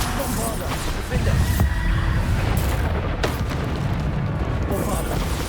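Bombarda blasting spell from Hogwarts Legacy bursting into a deep rumbling boom that rolls on through a busy battle mix, with a brief sharp crack near the middle.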